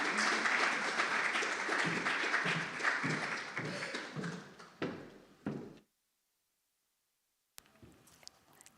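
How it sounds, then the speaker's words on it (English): A congregation at a Sunday celebration service claps for a woman walking to the stage, the applause tapering into separate claps before cutting to silence, followed by faint room noise and a few light taps. "So won't you please give a beautiful round of applause for Melissa as she comes to the"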